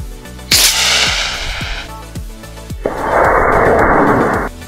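A small backyard model rocket with triangle fins launches, with a sharp bang and hissing whoosh, several light clicks, then a second sustained rushing burst of thrust, loud and close.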